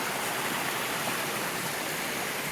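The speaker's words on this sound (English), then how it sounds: "The waterfalls, beautiful." Steady, full-bodied rush of falling water from a waterfall at an abandoned ghost town in West Virginia, continuous and close with no voices.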